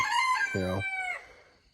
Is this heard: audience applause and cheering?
no